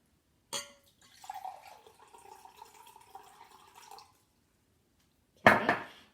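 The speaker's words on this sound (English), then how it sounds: "So you're going to fill about 1/4 of the cup with just" Plain tap water is poured into a cup for a lava lamp experiment. The steady pour lasts about three seconds, bracketed by a sharp knock of the cup or container before it and a louder one after.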